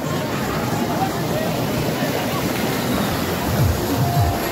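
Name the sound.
waterfall water rushing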